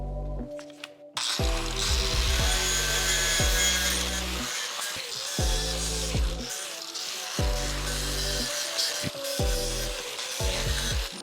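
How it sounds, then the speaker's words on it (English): Angle grinder knocking old tack welds off and beveling a freshly cut edge on custom V8 motor mounts for a 1965 Mustang with a Mustang II front suspension swap, loud repeated bursts of grinding with short pauses between passes. "I'm gonna take off some of the boogers that are left from the old tacks, as well as put a new beveled edge on this new cut that we made"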